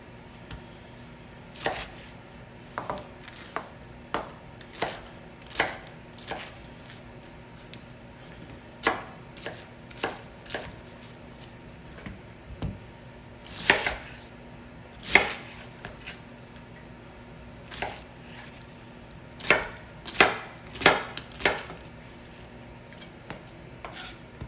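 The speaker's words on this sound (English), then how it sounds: "And then you can just cut the pineapple to decide the chunk that you want." A knife chopping pineapple into chunks on a cutting board, with irregular crisp taps close up, sometimes single and sometimes in quick clusters, over quiet kitchen background.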